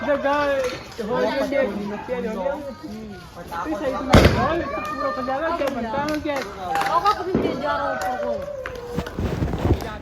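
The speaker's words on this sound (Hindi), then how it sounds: "बच्चों को पटाखे जलाना बहुत ही ज़्यादा अच्छा लगता है" Diwali firecrackers crack and pop in sharp bursts at a home, one especially loud, while several people talk and call out over them.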